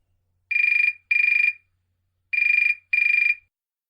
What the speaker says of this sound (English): Lucy's mobile phone is ringing.